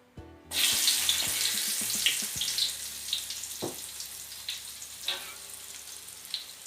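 Halved candlenuts fry in hot oil in a pan, starting with a sudden loud hiss and settling into a steady close-up sizzle with scattered pops and spatters.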